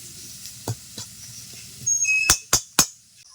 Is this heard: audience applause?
no